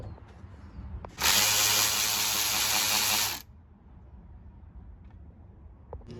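A single continuous burst from a power ratchet or driver runs for about two seconds, loud and close, as 10 mm fan bolts come out on a W211 Mercedes E55 AMG engine bay, then it drops back to quiet workshop background.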